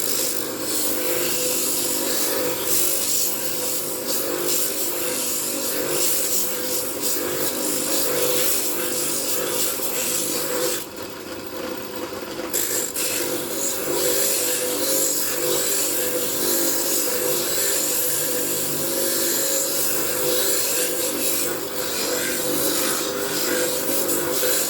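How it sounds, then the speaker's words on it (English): A drum sander works the inside of a handmade wooden mug cut on a scroll saw, making a steady, loud abrasive whir and rasp that runs nearly unbroken, with a brief dip partway through. "So I'm sanding the inside of the mug."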